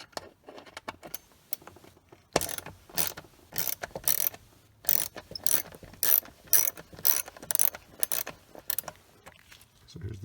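A ratchet works the seat bolts loose on a 2008 Mercedes C300 (W204): quick bursts of sharp metallic clicking come close up and stop and start, with brief quiet gaps between and some faint handling noise.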